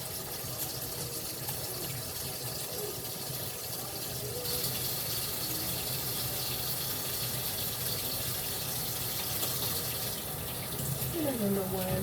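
Tap water runs steadily into a kitchen sink while hands are washed beneath it, a continuous close splashing hiss for the whole stretch, with faint background voices.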